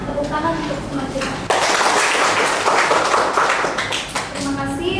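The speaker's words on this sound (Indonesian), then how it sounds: "Tepuk tangan untuk semua." Class at an Indonesian university teaching session claps along, a dense burst of hand claps rising sharply midway and filling the room, with voices talking over it before and after.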